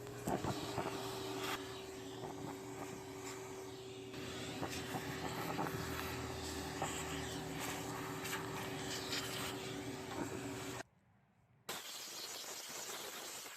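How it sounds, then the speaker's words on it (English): A shop vac runs with a steady, loud whine and roar as it pulls a nest out of a riding mower engine, then cuts off briefly near the end before starting again. "use a shop vac to actually remove the nest from the engine"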